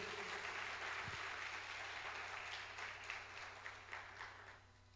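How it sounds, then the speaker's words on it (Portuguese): Applause from a church congregation, a broad wash of clapping that runs steadily for several seconds before thinning into scattered claps and tapering off at the end. "Dê um aplauso a Jesus Cristo aí, o Filho de Deus."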